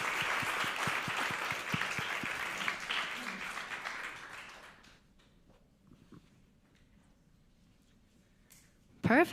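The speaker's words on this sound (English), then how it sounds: "Let's give one more round of applause." Audience applause at a university conference, a dense burst of clapping for about five seconds that fades out, followed by near silence and a sharp knock at the end.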